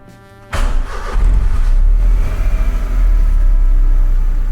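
A Perodua Kancil with an ignition coil ground wire fault starts up after a quiet moment, cranking then catching into a loud, close, rumbling idle that stays steady to the end.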